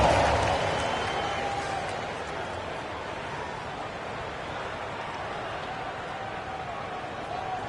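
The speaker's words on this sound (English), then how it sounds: "A round of applause." A basketball crowd applauds in a broad, steady wash of clapping and cheering that starts loud and gradually settles to a lower roar.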